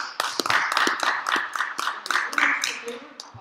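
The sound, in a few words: audience applause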